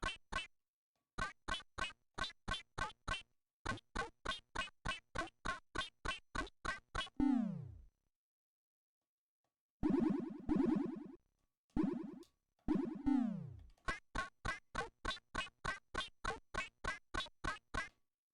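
Bleepy Commodore 64 video game footstep sounds, short buzzy synthetic blips repeating in quick regular runs, broken by descending electronic swoops and brief silences, clean and loud with no voices.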